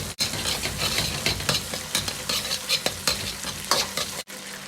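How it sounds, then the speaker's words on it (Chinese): Chili bean paste frying in a wok of lard and oil, then minced scallion, ginger and garlic tossed in, a close continuous sizzle with brisk scraping of the spatula and short pauses. "豆瓣酱炒香后，接着下入葱姜蒜末，"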